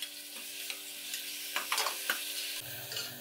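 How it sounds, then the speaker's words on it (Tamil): Onion and tomatoes sauté in a pan for a beetroot dish, a soft, steady sizzle with intermittent spatula stirring taps, fairly quiet over faint background tones. "ஆனியன் கொஞ்சம் வதங்கட்டும்."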